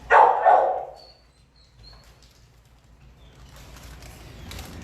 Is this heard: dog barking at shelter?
yes